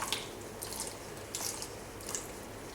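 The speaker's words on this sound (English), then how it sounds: "and squash all the water out." Soaked foam clump foliage for model trains being squashed by hand over a bowl, with a few soft wet squelches and drips recurring at a steady pace, close and fairly quiet.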